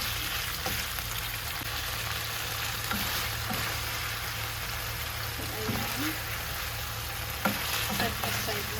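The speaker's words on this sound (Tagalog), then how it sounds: "Isaute lang natin siya." Shrimp seasoned with paprika and black pepper sizzle steadily in a pan, a soft continuous frying crackle with occasional stirring clinks and scrapes.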